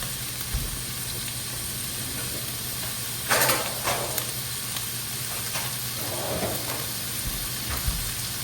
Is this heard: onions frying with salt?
yes